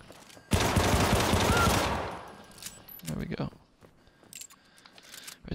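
Handgun fire in the video game Syndicate: a dense burst of rapid shots lasting over a second, followed by a few scattered sharper reports and clicks.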